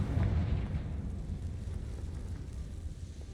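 A Confringo fire spell from Hogwarts Legacy goes off as a deep, rumbling blast that rolls and fades over a few seconds, with no talk over it.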